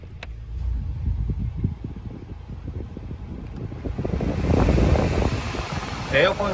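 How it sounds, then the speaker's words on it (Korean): Air blowing steadily from the vents of a Hyundai NF Sonata Transform's air conditioner, a constant fan whoosh with faint mechanical ticking nearby. "에어컨 상태에 시원한 바람 잘 나오는 것을 확인할 수가 있습니다"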